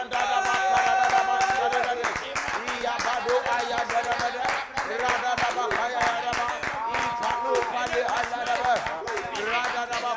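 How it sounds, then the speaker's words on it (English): Loud, rapid hand clapping comes in dense bursts during a fervent prayer session, mixed with a continuous impassioned voice praying aloud. "as I clap my hands"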